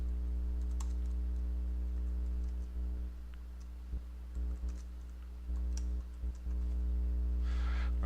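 A computer keyboard clicks in short scattered bursts of keystrokes over a loud steady electrical hum, with no talking.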